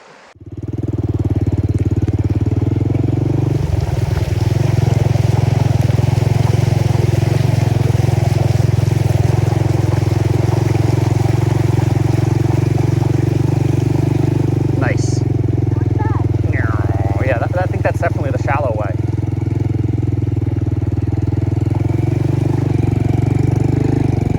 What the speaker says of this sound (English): favorite thing to do on this scooter, is drive across rivers